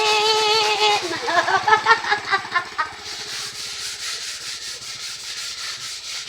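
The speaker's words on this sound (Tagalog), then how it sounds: "babrasan na natin" A brush scrubs a stain, applied by hand with repeated rough rubbing strokes in a quick rhythm for a few seconds, then a softer steady scrubbing hiss; close and fairly loud, with a little speech.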